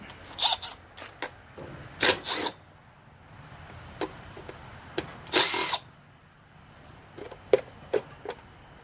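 Short bursts of a power drill whirring on and off, several spurts of varying length with brief pauses between, close and fairly loud.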